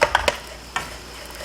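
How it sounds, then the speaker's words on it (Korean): Black sesame seeds roast in a pan, giving a quick burst of three sharp crackling pops followed by another snap, over a low, steady background hiss. "벌써 깨 볶는 소리가 납니다"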